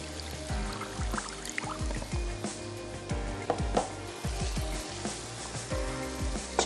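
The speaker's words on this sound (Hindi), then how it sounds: "थोड़ा सा पानी ऐड कर देते हैं" Water is poured into a hot cooking pan of Mexican rice with chicken and green chili, setting off a loud, hissing sizzle and bubbling splutter that continues steadily, with no talking.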